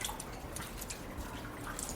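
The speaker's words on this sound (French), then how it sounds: "le son d'une goutte qui se dépose sur une roche" Water drops fall onto rock inside the La Balme caves, with scattered soft drips and faint splashes over a continuous low trickle of running water.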